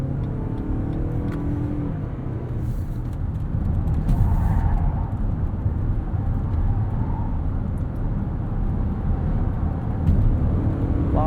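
A 2022 Lexus NX 350h Luxury AWD hybrid SUV driving in sport mode, heard from inside the cabin as a steady low engine and road drone that swells slightly as it accelerates.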